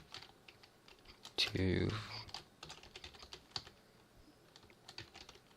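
Computer keyboard typing during Java programming work: scattered soft clicks spread through the clip, fairly faint, with a brief burst of speech interrupting near the middle.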